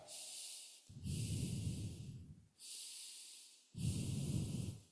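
A man demonstrates deep breathing through the nose, with two long, loud, close inhalations that hiss through the nostrils, each followed by a slower exhale, all heard alone and without talk.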